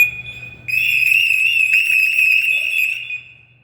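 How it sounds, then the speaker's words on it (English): A firefighter's SCBA PASS device alarm, switched on during a pack inspection, sounds a loud, steady high-pitched electronic tone with a slight warble for about three seconds and then cuts off. A faint low hum sits underneath. "hit the pass device and make sure it jumps on and off"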